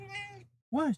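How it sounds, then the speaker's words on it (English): A house cat meows for petting, a short rising-falling meow at close range following a brief voiced sound, with a person speaking quietly nearby. "he's meowing for pets."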